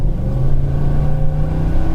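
A 2005 Nissan Armada LE's 5.6L V8, suspected of a cylinder 8 misfire, accelerates at about half throttle, a steady, loud engine drone with rising harmonics heard from close by, with no talking.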